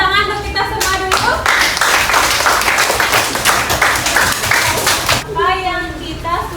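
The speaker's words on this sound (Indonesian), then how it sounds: "Tepuk tangan untuk kita semua dulu." A classroom of children claps together in a dense, steady burst of applause lasting several seconds, with voices speaking briefly before and after.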